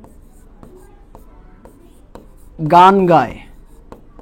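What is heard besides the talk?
writing a sentence on a board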